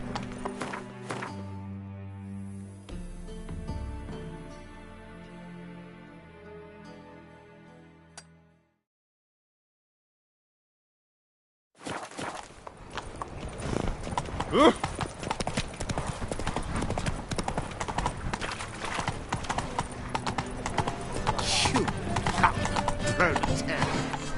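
Roach the horse's hooves clip-clopping at a trot in The Witcher 3, a steady rhythmic beat over game music, breaking off into silence before resuming amid busier game sound.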